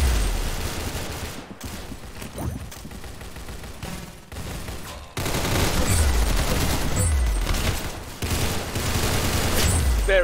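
Repeated bursts of gunfire from the Roblox Arsenal shooter game crackle loudly, with dense volleys separated by brief pauses and a heavier stretch of shooting in the second half.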